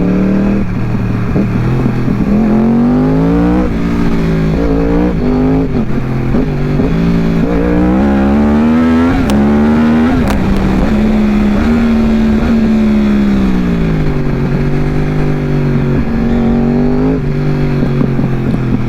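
A motorcycle engine rises in pitch and revs hard as it accelerates out of a corner, loud and close throughout, with the tone climbing, dipping, and climbing again, and no talking.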